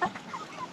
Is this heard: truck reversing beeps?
no